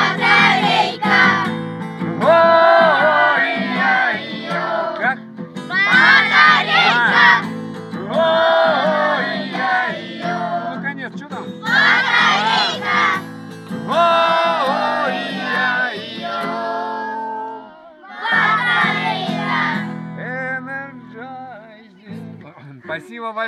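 Children sing a chorus together at a sanatorium event, several voices in unison with a melodic, rhythmic line in repeated phrases, loud and close, with short pauses between lines.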